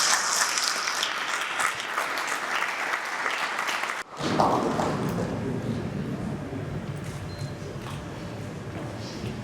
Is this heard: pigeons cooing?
no